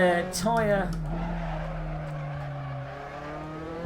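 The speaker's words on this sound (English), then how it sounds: "the audio of the tyre skidding at the point where you are actually wasting time" A tyre skid in Assetto Corsa, an SRS F3 car at Paul Ricard: a rising whine gives way to a long, steady squealing tone over a continuous engine drone.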